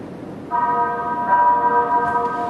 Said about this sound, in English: those bloody bells have started banging in